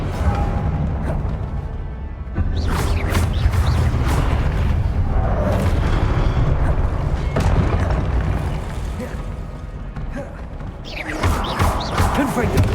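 Repeated fiery Confringo blasting-curse explosions in a video game, heavy booms and crashes recurring across the span over a dense rumbling background, with a voice talking over them.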